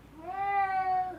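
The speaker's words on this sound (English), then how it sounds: "we have a kitty here that had a dentistry, so she's waking up from anesthesia" A cat coming round from anesthesia after dental work lets out a single drawn-out, wavering meow, faint and slightly distant in a quiet veterinary clinic.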